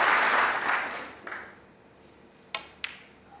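Audience applause at the 2022 Champion of Champions snooker final between Judd Trump and Ronnie O'Sullivan swells loudly, then fades within about a second, followed by two sharp, isolated clicks in the quiet hall.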